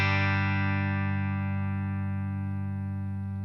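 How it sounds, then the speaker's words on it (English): A PastFx ECHO 600 delay pedal rings out a sustained, harmonically rich tone whose repeats blend into a long, slowly fading tail with no speech. "bring in a little bit of this beautiful, beautiful delay"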